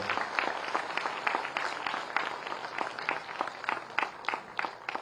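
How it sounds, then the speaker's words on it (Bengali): Audience applause at a government offer letter ceremony where a chief minister hands out job offers, steady clapping from a crowd with dense, rapid claps continuing throughout without any voices over it. "সবাই আরো একবার তাঁর জন্য জোরে করতালি আশা করব"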